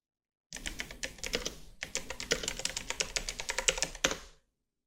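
Rapid keystrokes patter on a keyboard as a search query is typed, a close, dense run of clicks in two bursts separated by a short pause, with no voice.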